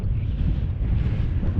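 Wind gusts across an exposed Scottish mountain ridge, buffeting the microphone in a low, rumbling, continuous roar with no voices.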